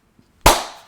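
A single sharp smack of a hand slapping someone's neck, a loud close clap-like crack with a short decaying tail, after near silence.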